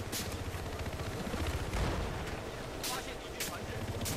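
Distant gunfire and heavy booms rumble through an online Battlefield 4 match, a dense continuous din with a few sharper cracks, under a player's voice.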